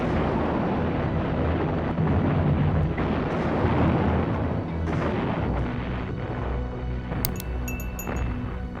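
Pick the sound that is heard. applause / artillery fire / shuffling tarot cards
artillery fire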